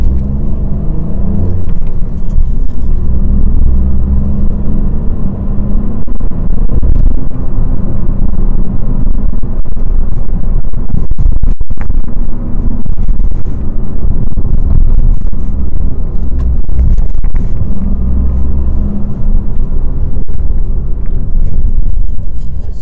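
A Fiat CV Lounge hybrid car drives over road dips on a test drive, heard from inside the cabin as a loud, steady low rumble with occasional thumps and knocks as the suspension takes the bumps.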